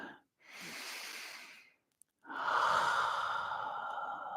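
A deep clearing breath during a healing meditation: a soft inhale, a pause, then a longer, louder sighing exhale, close and breathy with no voice.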